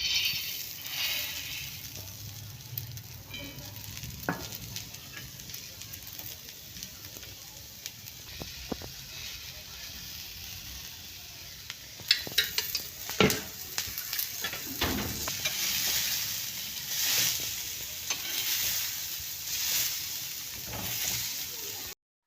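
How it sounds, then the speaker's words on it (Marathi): Green urad beans roasting in a pan, a continuous dry sizzle with scattered crackles and rattling stirs that grow busier partway through, close and moderately loud. "आता हे दाणे भाजणार आहे।"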